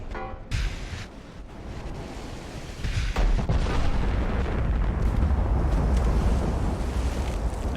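Battleship naval guns boom in Ultimate Admiral: Dreadnoughts, a couple of heavy blasts rolling into a steady roar of wind and sea rumble that stays loud throughout.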